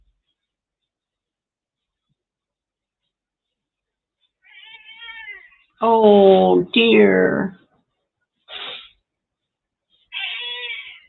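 A kitten meowing indoors, a faint thin mew followed by two louder drawn-out meows close up, then a short cry and a last softer meow, with a brief spoken remark among them.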